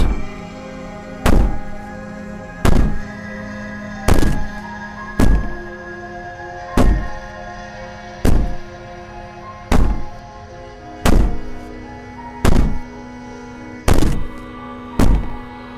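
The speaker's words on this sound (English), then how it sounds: "Maybe the banging and wailing will stop if you just don't pay attention to it" Heavy repeated banging in the video game Slay the Princess, a dozen loud thuds at steady intervals of about one and a half seconds, with a low sustained wailing tone running beneath them.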